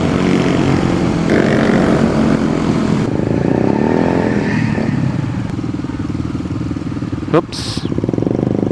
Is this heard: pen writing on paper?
no